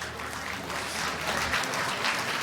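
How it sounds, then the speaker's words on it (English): An audience claps steadily in a short burst of applause, a dense, moderately loud patter of hands that stays even throughout. "a round of applause for Darren."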